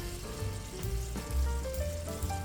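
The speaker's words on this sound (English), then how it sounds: "Okie dokie, let's fry these up." Chicken fried steak sizzles steadily in a frying pan, a close, continuous crackling fry with a tonal hum running beneath it and no voices.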